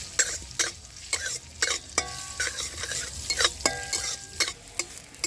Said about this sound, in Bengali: এবার আমি এই তেলের মধ্যে দিয়ে দেবো 1 চামচ আদা রসুন কুচি। প্রথমে এগুলোকে আমি একটু হালকা করে ভেজে নেব।